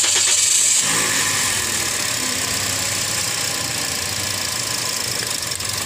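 A 2022 Toyota Vios with the 1NR engine idles steadily and loudly up close while ignition coils are checked one by one, its running note continuous with a rough, uneven edge.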